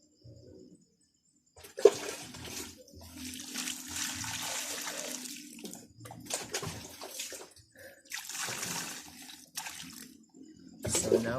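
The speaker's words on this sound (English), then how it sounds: "let's water this one" A houseplant, a Philodendron tricolor cutting, is watered in its pot: splashing, trickling water comes in uneven bursts with brief pauses, fairly close and clear, with no talking.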